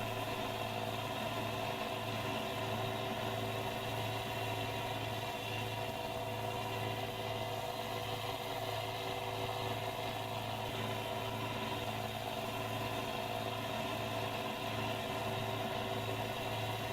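Farming Simulator 19 vehicle engine idling at high revs, a steady mid-to-low drone with a constant tonal hum throughout, faint and unchanging with no talk.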